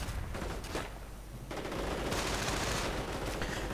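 A strategy video game plays dense bursts of rifle and assault-weapon gunfire. The shots rattle in a continuous, overlapping fusillade with a brief lull, faint and slightly muffled, and no talking over it.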